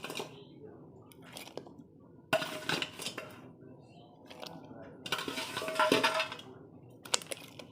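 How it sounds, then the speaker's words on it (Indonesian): Palm sugar dropped into a pot of boiling water for bandrek gives clattering clinks and knocks of pot and utensils in bursts, with someone talking between them. "Sekarang Oma mau masukkan gula merahnya"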